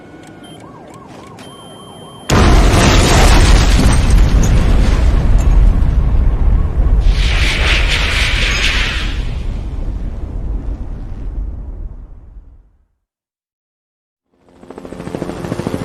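Massive explosion in the Twisted Metal 2 video game, a sudden loud blast with a roaring, crackling rumble that slowly fades into silence before another burst begins.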